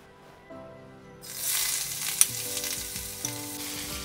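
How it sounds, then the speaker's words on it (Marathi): Chopped onion drops into hot oil for egg bhurji and bursts into a loud, steady sizzle that keeps hissing close by, with a few clinks of a utensil against the pan and a faint background hum; no speech. "मस्त असा कांदा चरचरलेला आहे तेलात गेल्यानंतर."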